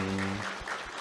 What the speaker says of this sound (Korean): 우리 임마누엘 찬양대 우리 박수로 한번 격려하도록 하겠습니다